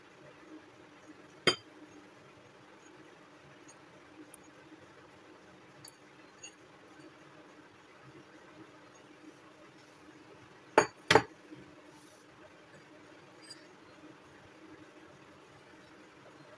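A spoon works flour into a creamy batter in a bowl, producing a few sharp, isolated clinks against the bowl over a quiet, faintly humming background, close by and otherwise still.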